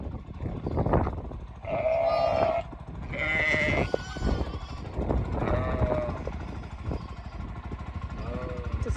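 Several sheep bleat repeatedly, some close and loud, others fainter, over a steady low engine-like drone.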